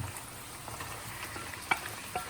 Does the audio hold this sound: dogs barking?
no